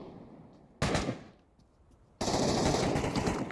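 Bursts of automatic gunfire in the Pavlov VR shooter during a competitive 2v2 league match, a sustained loud volley, then a short lull and a second, denser stream of rapid shots.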